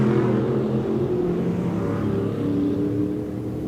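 Stock cars race at Off Road Speedway, a dense, continuous roar of several engines droning and revving at steady volume, heard from trackside without voices.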